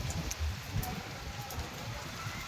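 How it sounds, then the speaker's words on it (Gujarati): Steady heavy rain hisses all around with a gusty rushing undertone, dense and continuous, with no voices, heard from a rooftop terrace. "જો કેવો વરસાદ આવ્યો ફૂલ પવન વરસાદ"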